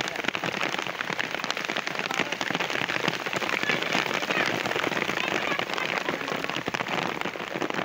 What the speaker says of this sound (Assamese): পূৰা বৰষুণ দিছে